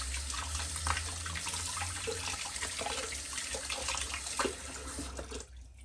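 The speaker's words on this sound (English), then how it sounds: "And then I'm going to rinse it off again." Steady running water splashes continuously as a Japanese dye brush is rinsed, with brief clunks and handling noises, then cuts off abruptly near the end.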